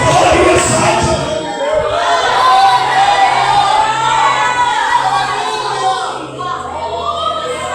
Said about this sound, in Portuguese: Aplauda e exalte.